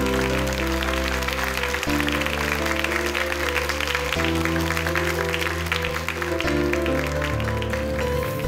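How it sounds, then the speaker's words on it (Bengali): Audience applause, a steady wash of clapping held at an even level for several seconds, running beneath sustained music. "একটা জোরে হাততালি"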